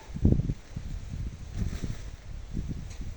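Wind gusting across an open field during soybean seeder calibration, a rumbling low buffeting against the microphone in uneven bursts, strongest at the start and continuing throughout with no speech.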